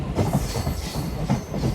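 A MEMU train runs on the rails with a low, close rumble and quick rhythmic clatter of wheels over joints, steady and loud with no voices.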